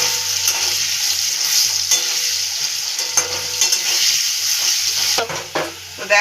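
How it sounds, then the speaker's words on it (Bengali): Potatoes fry in oil with salt and turmeric, a loud, continuous close sizzle broken by intermittent stirring scrapes and a few clanks of the utensil against the pan near the end. "আলুটাকে ভালো করে ভেজে নেব।"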